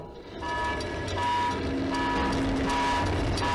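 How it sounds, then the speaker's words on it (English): A big alarm blares in the video game Stray, a loud steady electronic tone with repeating beeping pulses that starts abruptly and continues over rumbling background noise. "That's a big alarm."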